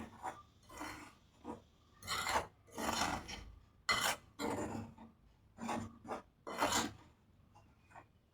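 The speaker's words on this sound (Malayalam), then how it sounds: "ഇതെല്ലാം കൂടെ നല്ലതുപോലെ ഒന്ന് മിക്സ് ചെയ്യാം." Bhatura flour, baking soda and sugar mixed together in a bowl, giving repeated close scraping and rubbing strokes in uneven bursts with short pauses between them.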